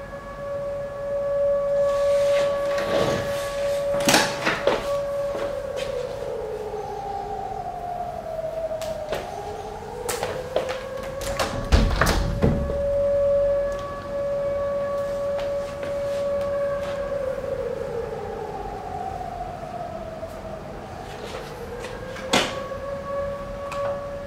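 An air raid siren wails during wartime in Ukraine, its long tone rising and falling in repeated sweeps across the whole stretch, steady and fairly loud, with a few sharp knocks and clatters nearby.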